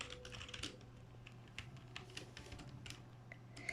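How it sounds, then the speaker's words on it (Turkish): A computer keyboard is typed on in a steady, soft run of close key clicks for several seconds, quiet and uninterrupted by voices, with occasional sharper presses. "Bakın klavye böyle."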